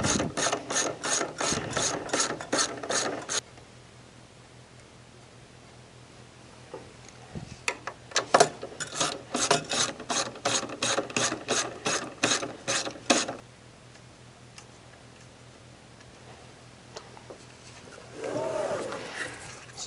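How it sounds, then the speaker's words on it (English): A 3/8 ratchet with a deep 3/8 drive socket loosens the blower nuts on a Santa Fe Compact2, giving close, rapid clicking in two long bursts separated by a quieter pause. "with a deep socket 3/8 ratchet or 1/4 inch ratchet, 3/8 drive socket, just take those loose."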